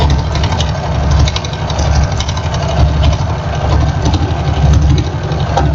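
A sewing machine top-stitching quilt box binding runs in one steady, unbroken motor hum, close up and fairly loud, with the needle's fast rhythmic chatter beneath.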